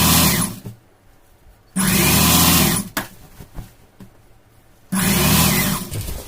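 A sewing machine stitching chudithar fabric runs in three loud, close whirring bursts, each about a second long, with quieter handling pauses between them.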